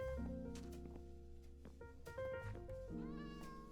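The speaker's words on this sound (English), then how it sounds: "there are multiple cats now." Several cats meow in Minecraft, their calls rising over a busy wash of music and game sounds, close and repeated across the short stretch.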